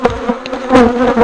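Honey bees buzz steadily around an open beehive while the top comes off a honey super, a loud, close drone holding throughout without speech.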